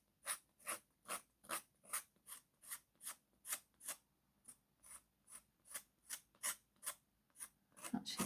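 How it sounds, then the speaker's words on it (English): A palette knife scrapes back damp paint on canvas in about sixteen even, rhythmic rasping strokes, quiet and close. "So I'm just literally scraping back the paint."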